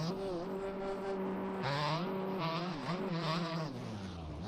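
Two-stroke motocross bike engines in the MX Bikes racing game, loud and continuous with rising and falling revs as the bikes push through corners, several engine notes overlapping.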